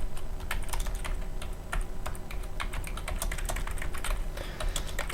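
Rapid, steady clatter of a computer keyboard being typed on up close, a continuous run of crisp key clicks with a few heavier strokes like the Enter key standing out.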